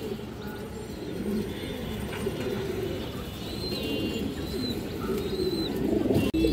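Indian highflyer pigeons, including a high-quality male, coo softly in a steady low murmur throughout, with faint chirps overhead and background noise from a pigeon market.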